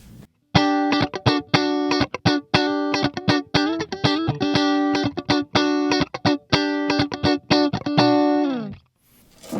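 Distorted electric guitar plays a fast, chugging riff of choppy chords and single notes through a Soldano Astro-20 amp and Soldano 212 cab, loud and close, ending on a sustained ringing note.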